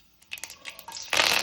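Mustard seeds are tipped into about three spoons of hot oil in a pan for okra huli, landing in a few light scattered ticks and patters before a sudden, bright crackling burst of spattering takes over.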